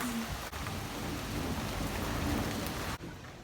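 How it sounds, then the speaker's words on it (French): Steady heavy rain pours down without a break, a dense hiss of drops close by with a faint low rumble underneath. "il pleut comme jamais"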